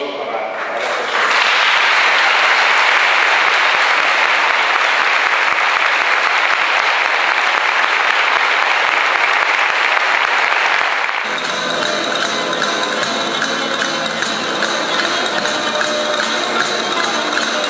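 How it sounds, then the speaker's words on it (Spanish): A church congregation at a Spanish mass honoring the Virgen del Pilar bursts into sustained loud applause that fills the space, then gives way to music that begins under the fading clapping. "pido otro aplauso para esta persona"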